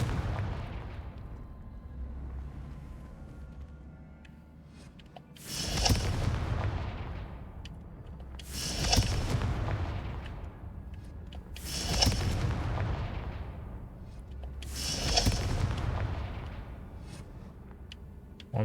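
Confringo fire spells cast in the Hogwarts Legacy video game, heard as four deep, booming blasts at regular intervals, each with a roaring rumble that fades out slowly, loud and alone.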